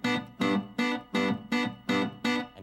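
Strummed guitar chord hit in an even, steady pulse, six evenly spaced strokes with short gaps between, bright and close.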